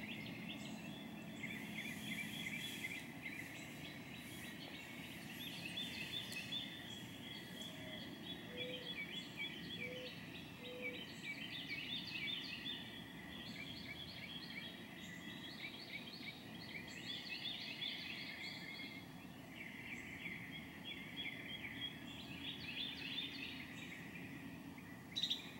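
A Carolina wren sings loudly outdoors, repeating bright rolling phrases in bursts over a long stretch, set against a faint steady background hum with occasional softer calls.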